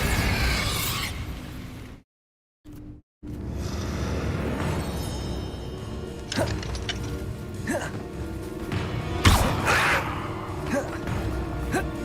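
A Bombarda spell detonates in Hogwarts Legacy, giving several sharp bursting impacts over a busy, rumbling battle background after a brief silent gap.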